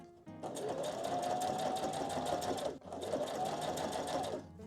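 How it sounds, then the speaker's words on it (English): Sewing machine running steadily around the edge of a fabric adventure book page, two continuous close bursts of stitching with a brief pause between them. "I'm going to take it to my machine and I'm going to sew around the edge"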